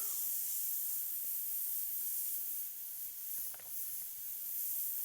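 Airbrush held open and spraying paint continuously while it zigzags over a surface for an underpainting texture, giving a steady, close hiss with a slight dip partway through.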